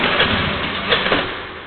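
A car engine cranks and starts, then runs at a steady idle as fuel is being drained from its electronic fuel system; the engine noise is loud and close, with a couple of thumps near the start.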